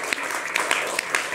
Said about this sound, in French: Donc on peut applaudir Ignace